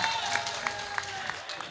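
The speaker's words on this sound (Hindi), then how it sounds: "एक बार जोरदार तालियां बजाइए।" An audience at an All India Mushaira poetry recital claps in a brief, fairly soft burst of applause, steady and diffuse with no talk over it.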